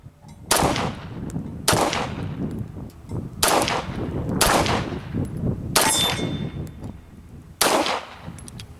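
Pistol shots from a Sig Sauer P226 or Beretta 92FS at a steel plate target ring out as six loud, close reports, spaced about a second apart, each with a ringing tail.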